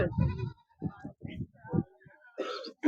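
Goats at a goat market bleat in short throaty bursts, several separate calls close by with brief gaps between them, ending in a higher nasal cry.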